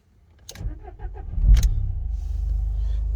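A 2014 Dacia Duster 1.5 dCi diesel cranks with a few starter-motor turns, fires with a loud near burst, then settles into a steady low diesel idle.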